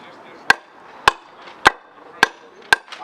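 Five evenly spaced, sharp hammer blows ring out up close during house construction, each a crisp strike on wood with a steady rhythm and brief quiet between.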